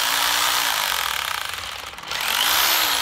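A 100V Japanese-market electric drill runs in hammer mode, a steady loud whirring buzz with a hammering rattle that dips briefly in the middle, then picks back up to full speed.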